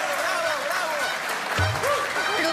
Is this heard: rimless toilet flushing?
no